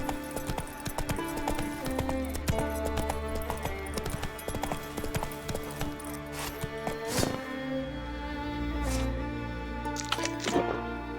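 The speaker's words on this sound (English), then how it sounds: "Giddy up. Not so fast, Roach" A horse's hooves gallop in The Witcher 3 video game, a quick, continuous clip-clop rhythm with occasional louder thuds and a whinny, over game music and some speech.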